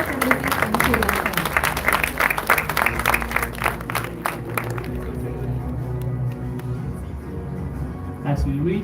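An audience at the NASA Space Apps event in Colombo claps for the US Embassy in Sri Lanka with dense, fairly loud applause that thins out midway. A low hum and some murmuring voices run underneath as the clapping dies away.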